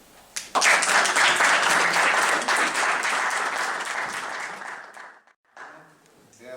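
An audience at a medical forum applauds a newly introduced medical student leader, with dense, steady clapping for about five seconds before it thins and stops, followed by a brief murmur of voices.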